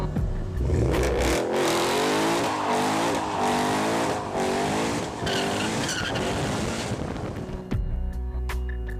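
A powerful supercharged V8 in a Roush Stage 3 Ford Mustang roars and revs hard, pitch sweeping up and down as it accelerates past, loud with wind buffeting and a tire squeal near the end.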